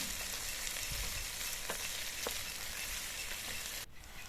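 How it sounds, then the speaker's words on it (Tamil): Potatoes sautéing in a pan, a steady close frying sizzle with a few soft stirring knocks, cutting off abruptly near the end. "இப்போது உருளைக்கிழங்க போட்டுக்கலாம் இது நல்லா வதங்கணும்"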